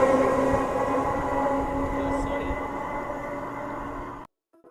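A Class 800 high-speed train on a Plymouth to Edinburgh service passes at Thirsk, a loud, sustained roar of wheels and engine with steady tonal hum that holds for about four seconds before cutting off abruptly.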